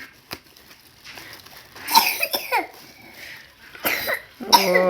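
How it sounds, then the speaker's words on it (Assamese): A person with a bad cough that disturbs sleep coughs several times in sharp, rough bursts close up, with throat-clearing and brief voiced sounds between, then a longer harsh coughing fit near the end. "পুৰা কাহি আছে ইমান কাৰণ ৰাতিও শুবলৈ শান্তি পোৱা নাই"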